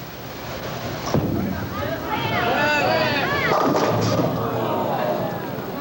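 Bowling ball crashing into pins during a 1979 Pro Bowlers Tour title match in Cleveland, a sharp impact followed by scattered clattering, heard amid loud arena crowd noise and cheering.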